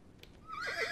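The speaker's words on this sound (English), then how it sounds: "The horse whinnied and scampered back into the dense forest." A horse whinnies in a rising, wavering neigh that builds loud and close after a brief quieter stretch, set at the edge of a dense forest.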